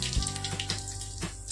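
Asafoetida, mustard seeds and cumin sizzle and crackle in hot oil over a low flame for a dal tempering, close and continuous frying with small popping spits, no talk.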